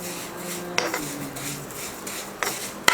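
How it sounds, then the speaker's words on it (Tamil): Vermicelli roasting in ghee in a pan for Sheer Khurma, heard as soft sizzling with scraping of a spoon against the pan and a few sharp metallic clinks, close and moderately quiet. "அடுத்து சேமியா வறுத்துக்கலாம்"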